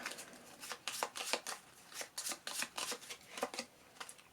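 Playing cards in a Marvel Champions game, played as Phoenix against a mansion attack, are slapped down and slid one after another in a quick irregular series of crisp papery snaps, close and fairly quiet with no talk.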